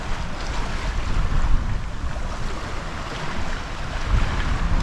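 A sailboat making 5.4 knots across the open ocean, with steady rushing water and waves against the hull and strong wind buffeting the microphone, loud and continuous.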